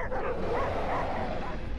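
A dog barks and yips repeatedly inside the Fortnite video game. The barks are mid-distance and steady over a constant game background, and people talk over them.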